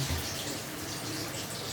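Water pours into a cooking pot of browned meat and tinda (round gourd) for tinday gosht, a steady broadband splash and rush that stays fairly loud and even throughout, with no talk.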